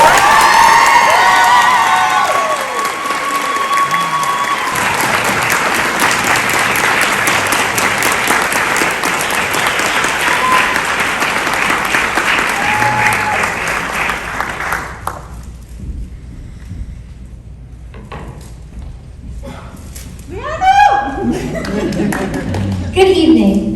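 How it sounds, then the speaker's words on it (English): An audience at an 8th grade graduation ceremony applauds the valedictorian, with loud sustained clapping, cheering and whoops for about fifteen seconds. The clapping then fades into scattered claps and crowd chatter. "please join me in giving a resounding round of applause to our valedictorian, Rihanna Joseph."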